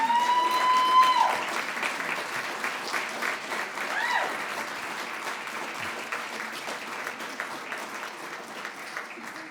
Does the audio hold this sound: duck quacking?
no